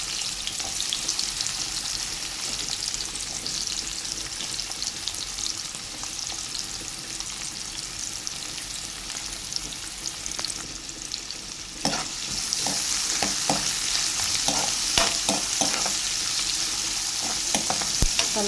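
Onions sizzling in hot seasoning oil for a bottle gourd and tomato curry, a steady close frying hiss with scraping stirs growing louder and more frequent toward the end, no voices.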